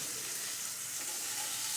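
Chopped banana stem fries in oil left over from frying potatoes for a vegetarian thor ghonto. A steady, close sizzle hisses without pause, with no talking.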